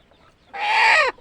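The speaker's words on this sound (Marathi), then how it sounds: "बघा गावरानी कोंबडी आहे" A single loud free-range hen cluck-squawk, drawn out for about half a second, close by with no talking.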